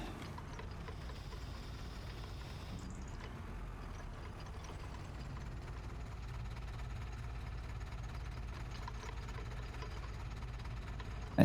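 Loader tractor engine idling in Farming Simulator 25, a steady low rumble with faint vibration that holds evenly throughout, ending in a brief louder bump.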